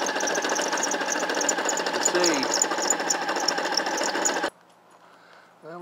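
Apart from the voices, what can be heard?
car engine warming up with noise from the clutch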